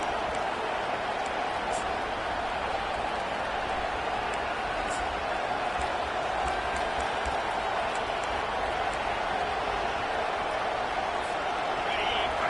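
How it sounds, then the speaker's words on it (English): A stadium crowd at a football game keeps up a continuous dense roar throughout, broad and steady with faint whistles and cheers poking out, while a commentator talks over it. "The roar of the crowd trying to fuel this defense to keep them pinned in their own end."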